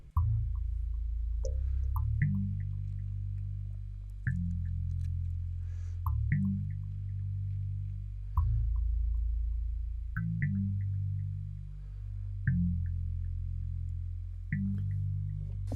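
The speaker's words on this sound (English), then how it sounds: "the bass sound that was used in the hook" Amapiano bass from a song hook, made with a stock FL Studio plugin, a deep tuned bass playing a repeating pattern of low notes with a short bright click at each attack, alone and clean.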